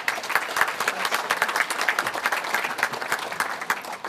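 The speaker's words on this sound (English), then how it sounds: "So welcome her with a hearty hand clap." An audience at an evening honors ceremony for congressional certificate recipients claps steadily, a dense wash of hand claps filling the room for several seconds with no one speaking over it.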